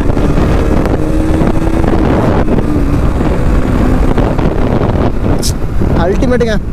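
A Bajaj Pulsar NS200 2023 motorcycle being ridden, its engine droning and revving with heavy wind buffeting the microphone while someone talks over it.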